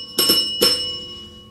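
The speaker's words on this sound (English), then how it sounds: "ring the notification bell" Two quick bright bell dings ring out close and clear, the second a moment after the first, each with a faint shimmering tail fading into quiet room tone, in the style of a notification chime.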